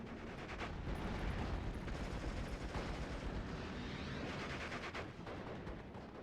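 A continuous artillery barrage in a WWII strategy video game, with dense overlapping booms and rumbling blasts that run without a break, loud and alone with no voices.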